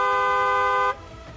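A single car horn blares steadily for about a second in Varanasi, then cuts off, leaving faint background noise.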